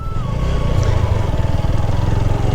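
Motorcycle engine running steadily while the bike is ridden, a loud, close, continuous throb with a slight rise in pitch.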